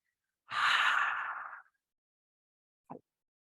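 A single strong breath pushed out during an abdominal breathing exercise, lasting about a second, followed by a short faint breath sound a moment later, close and otherwise quiet.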